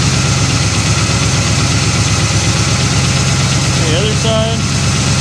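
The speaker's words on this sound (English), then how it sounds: "And I'll just play with the idle a little bit." A 1957 Chevy Bel Air engine idling, a loud steady low rumble throughout, close up, with a brief voice speaking over it near the end.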